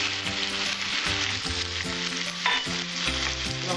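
Cumin paste hitting hot oil for a vegetarian Bengali pumpkin chokka, a strong continuous close sizzle with stirring, over a steady melodic backing tune.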